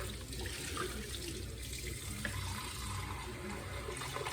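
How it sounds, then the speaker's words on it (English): Hot water running from a kitchen tap into a blender jar, a steady rushing splash that continues unbroken throughout, with no talking. "Maybe I'll actually just fill it with some hot water."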